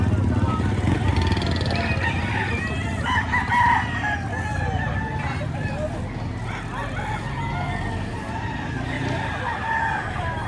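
Roosters crowing and hens clucking at a chicken sale in Lipa, Batangas, several birds calling over one another close by, with people talking and vehicle noise in the background.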